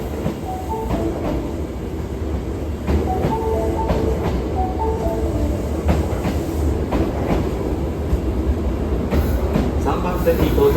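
Osaka Metro Tanimachi Line train 22962, a car known for an unusual noise, arriving at a station platform, rumbling wheels and clattering rail joints building as it rolls in, with a station announcement voice over the top.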